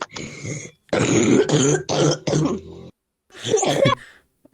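A sick young boy gives harsh, crunchy coughs and throat-clearing, several rough bursts in quick succession, loud and close, followed by a pause and one more raspy burst.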